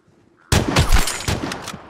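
Gunfire in the video game Vigor erupts after a quiet moment, a loud, close burst of rapid shots with sharp reports and a short echoing tail.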